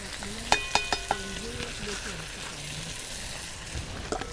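Spice masala of ground cumin, turmeric, pakora masala and Kashmiri chili sizzles steadily in a pan, with a few sharp clinks of a spoon near the start and a voice talking over it.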